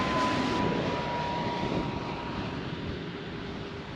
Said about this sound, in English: watch a glider taking off